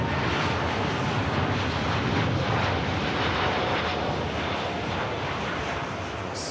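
A Boeing 787 Dreamliner departing Manchester Airport gives a steady, broad roar of jet engines with a rushing, wind-like quality, constant in level across the short stretch.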